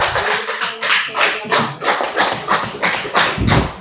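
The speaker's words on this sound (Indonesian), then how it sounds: "Beri tepuk tangan" Classroom audience clapping for a student group's presentation, a small group giving uneven, moderately loud claps over about four seconds with no speech.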